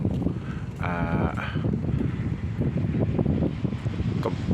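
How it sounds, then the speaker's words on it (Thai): Strong wind buffets the microphone on the Mekong riverbank at Nakhon Phanom, a continuous rough rumble with gusty bursts, and a brief tonal bleat-like cry sounds faintly near the start. "ลมแรงมากครับตอนนี้"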